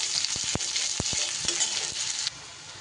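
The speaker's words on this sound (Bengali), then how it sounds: "পেঁয়াজটা একটু হালকা করে ভেজে নিতে হবে।" Chopped small onion frying lightly in hot oil, a loud continuous sizzle broken by several sharp stirring clacks, ending abruptly into a quieter hiss.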